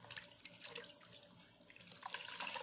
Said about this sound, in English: I'm going to rinse the washcloth